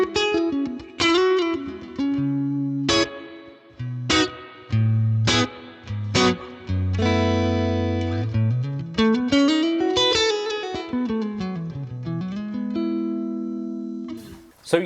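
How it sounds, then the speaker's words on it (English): An electric guitar through a Fractal FM3's Super Reverb amp setting plays chords and sliding single notes that ring out for several seconds. The sound is loud and sustained, with no talking over it. "Super reverb. Let's have a listen."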